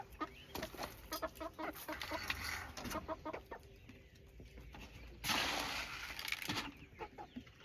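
Four-month-old Gerze roosters and hens cluck at close range, a busy run of short clucks and calls with one louder burst midway, heard alone.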